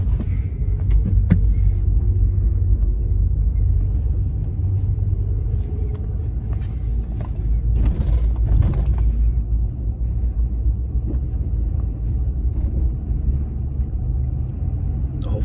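Inside a 2010 Ford F-150 4x4 pickup, a low road rumble carries several dull, hollow thunks and knocks as it rolls over bumps, clustered around the middle.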